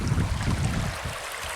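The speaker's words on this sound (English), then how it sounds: "the water's making some pretty sounds" Water flowing along a mountain stream while rockhounding in California, a steady broadband rush that fills the whole moment at close range with no voices over it.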